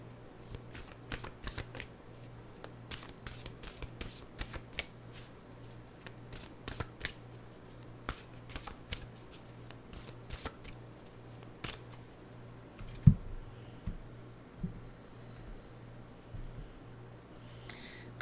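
Mantra cards shuffled in a fairly quiet room, giving a run of soft, irregular riffling clicks with one sharper tap near the end and a low steady hum beneath.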